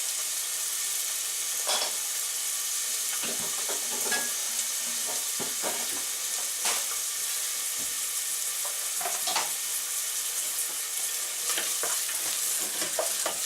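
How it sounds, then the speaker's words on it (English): Onions frying in a couple of tablespoons of warm oil for chopped steak with mushroom sauce, a steady close crackling sizzle with scattered pops and stirring scrapes throughout, no voices. "And it starts to fry, so I add the onions."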